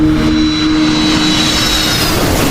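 Aircraft engine noise from Flight 447 as the airliner stalls and falls, a loud, steady roar with a high whine sliding slowly downward, constant throughout.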